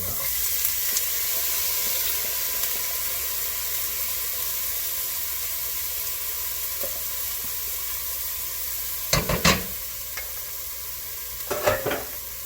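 Vegetables for dirty rice frying in a pan, a steady close sizzle and hiss, with a few louder scrapes of stirring near the end.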